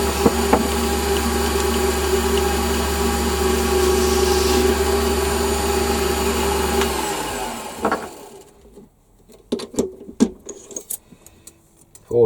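A metal lathe chamfering a part, steady cutting and motor hum held for about eight seconds, then winding down into sparse clicks and taps from the workshop.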